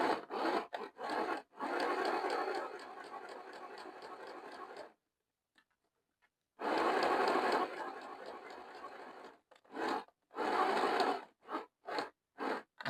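Sewing machine stitching the body of a stuffed toy, running in bursts of rapid mechanical chatter, with a long quiet pause midway and then shorter stop-start runs near the end, close and fairly loud.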